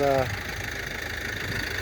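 A Kata KE 504 tractor engine runs steadily while spraying a soybean field, a low, even mechanical drone with a speaking voice briefly heard at the start.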